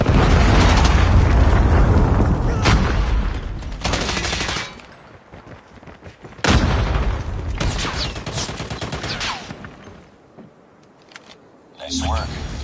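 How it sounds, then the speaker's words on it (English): Predator missile explosions in the mobile shooter Call of Duty Mobile: loud, close, booming blasts with deep rumbling tails, coming in several heavy bursts separated by quieter stretches of lingering battle noise. "Predator missile inbound."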